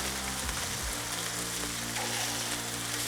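Bacon sizzles and crackles steadily on a Blackstone griddle, a close, continuous frying hiss with a low hum underneath.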